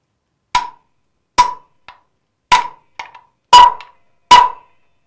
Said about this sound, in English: Drive it in with the 1/2 inch or 13 millimeter socket.